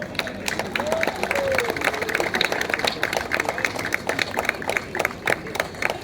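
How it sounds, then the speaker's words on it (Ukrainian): Audience clapping at an outdoor children's stage performance by a Ukrainian pump room in Truskavets, rhythmic individual claps close by over crowd murmur, with voices mixed in. "Але під ваші бурхливі оплески"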